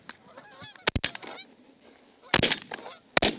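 A flock of geese honks loudly during a North Dakota waterfowl hunt, with repeated overlapping calls close by and sharp bursts of gunfire breaking in between the honking.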